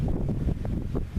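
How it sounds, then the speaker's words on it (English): An outdoor breeze buffets the microphone with a loud, low, continuous rumble, without talk. "we've got a bit of breeze here"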